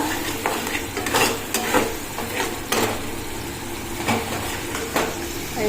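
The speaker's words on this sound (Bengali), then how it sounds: "একটু জল দিয়ে মশলাটাকে কষিয়ে নেব দিয়ে দিলাম কটা কাঁচা লঙ্কা" Spice paste sizzles steadily in a hot pan with a splash of water and green chilies. A spatula scrapes and stirs through it in a few louder strokes, with no talking over the continuous hiss.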